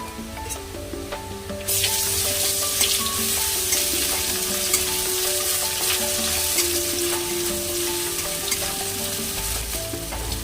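Crushed ginger and garlic hit a pan of reddened onions and green chillies, bursting into a loud, steady sizzle that holds through to the end, with a few light stirring scrapes and no talk.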